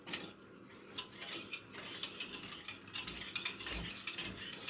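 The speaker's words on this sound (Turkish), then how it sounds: "Şöyle güzel bir şekilde karıştırıyorum." A spoon stirring pudding in a cooking pot, giving soft repeated scraping and clinking against the metal with a faint sizzle beneath. It is quiet, close and continuous, with no talking.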